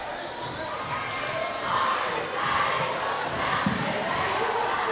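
Crowd noise fills a high school basketball gym during a game, a steady roar of voices and shouts with occasional ball bounces, swelling louder midway through.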